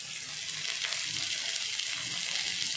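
Ground coriander masala paste sautés in a pan with a steady, close, hissing sizzle that holds at an even level throughout, with no voices.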